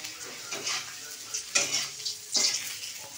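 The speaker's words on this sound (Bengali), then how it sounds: "ওই যে ভাজছে" Papad wafers fry in hot oil with a continuous close sizzle, broken by several sharper bursts of crackling and stirring as the pieces are turned.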